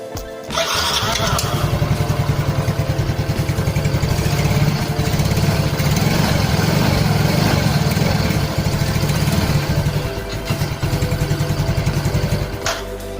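A Yamaha Mio M3 125 scooter engine starts and idles close by with a steady, putt-putting drone that holds for several seconds before fading slightly at the end.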